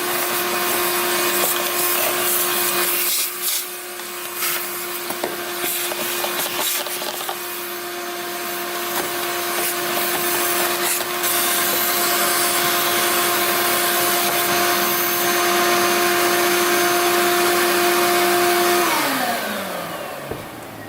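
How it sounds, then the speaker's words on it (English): A vacuum cleaner sucks debris out of an old, neglected ATV, a loud continuous whine with a steady tonal hum, occasional scraping bumps as the nozzle moves, then the motor winds down at the end. "Let's get this thing vacuumed out."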